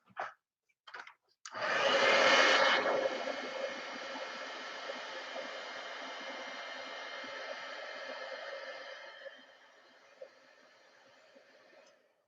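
A heat tool blows steadily to emboss a doily, a loud broadband whoosh that starts abruptly, peaks early, then settles into a sustained airy roar for several seconds before dropping to a fainter hiss near the end.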